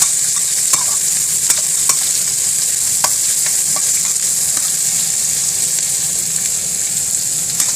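Onions fry in hot oil beside a salmon head, giving a loud, dense, continuous sizzle with occasional clicks from stirring, close to the pan and with no voices.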